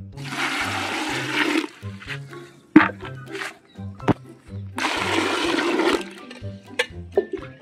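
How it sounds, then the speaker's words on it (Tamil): Water is poured over wild termite mushrooms to wash off soil, in two loud gushing bursts separated by quieter stretches, over a low pulsing background beat. "க்ளீன் பண்ண போகிறோம், தண்ணி ஊற்றுவோம்."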